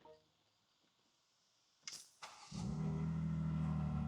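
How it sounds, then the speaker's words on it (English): A BMW M2 G87 fitted with a mid-pipe and new exhaust starts up in its regular mode: a quiet lead-in, a sharp starter crank and catch, then a loud, steady rumbling idle that holds close by to the end. "So let's listen to this mid-pipe and new exhaust"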